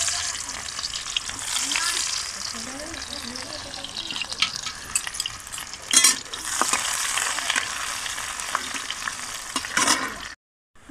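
Oil fries in a pan on a clay stove, giving a dense, continuous close sizzle with stirring clatter and a few sharp spatula knocks, cutting out briefly near the end.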